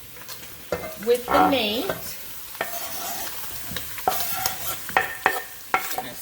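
Chopped garlic sizzles and sautés with meat in a pan for chili, soft frying hiss under a voice, with clattering stirring bursts throughout.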